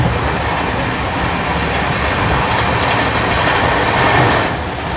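Kshamta Express train passing on Indian rails, a loud steady roar of wheels and carriages rumbling by close, with faint clatter and no talk.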